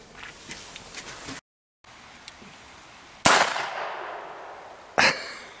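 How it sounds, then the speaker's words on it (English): A .22 bolt-action gun dog training dummy launcher fires a dummy, giving one loud sharp crack that rings off into a decaying tail, followed by a second sharp report; faint light clicks come earlier, with no talking. "I'll just show you a clip of it firing this dummy over a distance of about 60"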